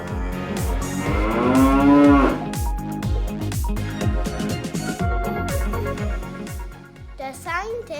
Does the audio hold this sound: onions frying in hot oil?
no